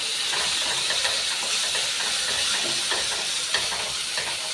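Sliced onions and green chillies sizzle loudly and steadily in a hot pan for a jackfruit seed roast, a dense continuous hiss with faint stirring clicks throughout.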